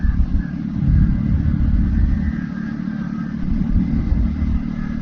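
Two motorbikes riding along an empty road at night near Bolpur, giving a continuous close engine drone and low rumble that holds steady throughout.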